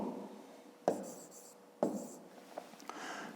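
A pen scratches across paper during a fifth-grade math lesson in a steady, close rubbing stroke broken by two sharp taps, with a few lighter marks after.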